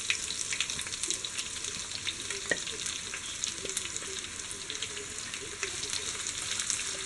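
Sliced onions sizzle and crackle steadily in hot oil for Kerala chicken curry, with occasional stirring scrapes and a faint watery background.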